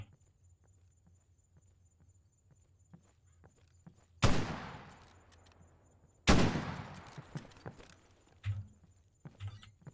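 Two sharp gunshots in the video game Stalker Anomaly ring out a couple of seconds apart, each with a loud crack and fading tail, among faint clicks and footstep-like rustles.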